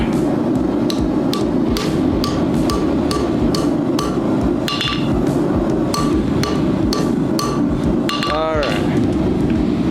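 Repeated hammer strikes on a forge weld for a fluxed steel dragon head, sharp metallic clinks ringing at a steady rhythm over a loud constant roar of the forge.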